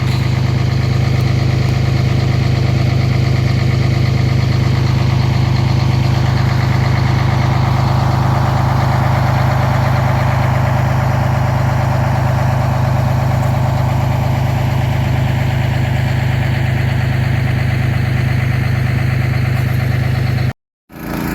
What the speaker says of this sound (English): I'm over here running the water truck